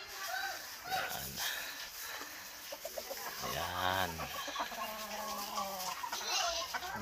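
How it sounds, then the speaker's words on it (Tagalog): Large roosters being placed together in a chicken coop cluck and call in bursts, close by and fairly loud, with someone talking over them. "2 tandang lang na malaki kasi baka mag-away-away pag nilagay yung mga malalaking tandang"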